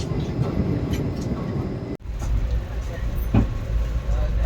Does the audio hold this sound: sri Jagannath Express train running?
yes